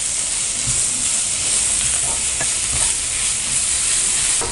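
Tomatoes with masala and salt sauté in a pan for black urad dal, a close, steady sizzle with soft scraping and stirring sounds running through it.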